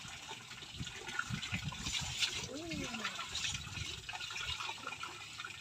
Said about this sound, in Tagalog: Buhos ang buhos para matanggal yung dumi.